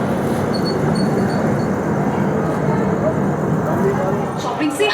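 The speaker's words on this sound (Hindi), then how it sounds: "एडजेसेंट प्लेटफॉर्म पे आ चुकी है ग्रैंड ट्रंक एक्सप्रेस" The Grand Trunk Express, a Chennai–New Delhi train, rolls into the adjacent platform at a station, producing a loud, continuous rumble of wheels and carriages that fills the whole scene.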